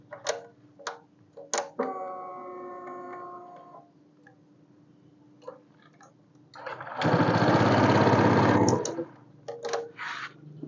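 Honda PCX scooter with a keyless ignition started without its remote: soft clicks and a short electronic tone, then a loud two-second burst of starter cranking, followed by quieter clicks.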